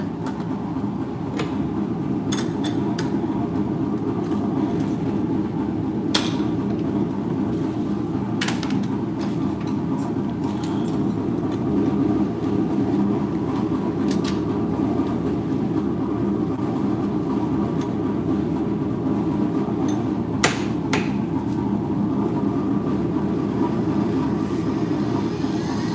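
A wood lathe spins a thin spindle at 3,629 RPM, giving a steady loud whirring drone throughout, broken by occasional sharp ticks and clicks.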